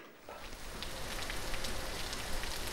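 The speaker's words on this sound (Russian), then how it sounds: "По окну барабанит дождь" Rain drums steadily on a window, a dense, even patter heard close up that swells slightly after the opening moment and continues without a pause.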